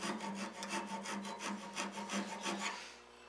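A rasp files wood turning on a lathe, giving steady rhythmic rubbing strokes, about two or three per second, close and fairly loud, with no talking.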